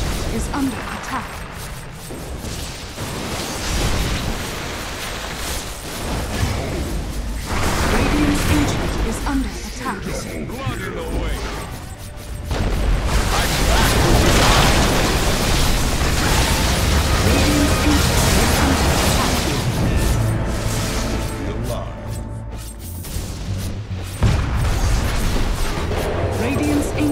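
The Radiant Ancient crumbles during a Dota 2 match, with dense, continuous rumbling blasts and crashing booms layered over game music and effects, sustained and loud throughout, while announcer voice lines break in now and then.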